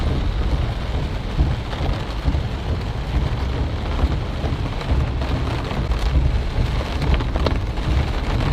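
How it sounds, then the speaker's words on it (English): Heavy rain pours steadily on a paved mountain road, a dense close wash of drops with low thunder rumbling underneath, continuous and loud with no voices. "It's raining cats and dogs."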